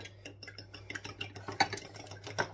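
Salted and peppered potato pieces are stirred in a bowl, a run of quick clinking and scraping taps with uneven rhythm, close and fairly quiet, with no talking.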